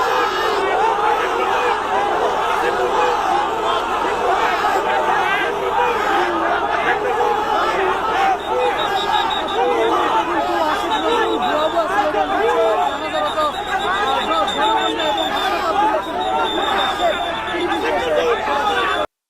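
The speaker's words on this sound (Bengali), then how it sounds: "কোথাও গেলে পাবলিক আটকায় ফেলে, ভুয়া ভুয়া স্লোগান দেয়।" A large crowd chants the protest slogan "bhuya bhuya" (fake, fake) in a dense, continuous roar of many voices shouting together. The chant holds steady at full loudness throughout with overlapping cries and babble.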